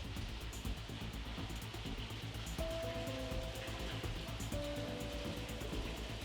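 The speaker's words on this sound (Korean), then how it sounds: "지하가 울리도록 우렁찬 물소리가 들리고" A constant loud roar of rushing groundwater mixed with soil fills a building's underground level, steady throughout, with a faint tonal whine partway through.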